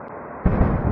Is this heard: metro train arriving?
no